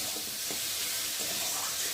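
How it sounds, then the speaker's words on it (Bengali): Fried prawns sautéed with spices in a pan for a banana-flower curry, giving a constant, even sizzle with faint stirring scrapes, heard alone. "যে চিংড়ি মাছটাও মশলার সাথে ভালো করে কষিয়ে নেব"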